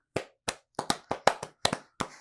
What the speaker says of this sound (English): Let's give a round of applause to that kid.